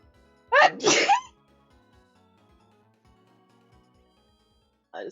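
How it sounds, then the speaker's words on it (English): A single loud, close sneeze bursts out near the start, followed by near silence with faint low background noise and a brief sound at the very end. "That was a fucking sneeze."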